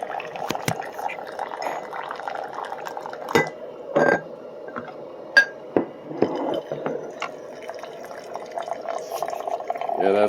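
Boiling hot water pours and trickles steadily from a water purifier, with clinks of glass and dishware and a few sharp knocks along the way.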